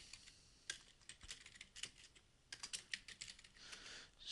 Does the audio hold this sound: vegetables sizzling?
no